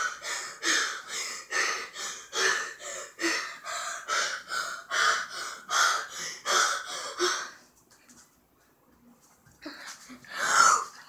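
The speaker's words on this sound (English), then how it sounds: "Start breathing hard for 10 seconds." A person breathing hard and fast, rhythmic loud, close huffing inhales and exhales for about seven seconds, then near silence as the breath is held, followed by a gasping release.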